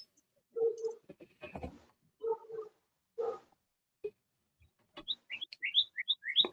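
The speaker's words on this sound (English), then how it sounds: "My birds are coming to see me." Several birds chirp close by, a scatter of short tweets and calls in irregular bursts, busiest near the end, with brief low thumps between them.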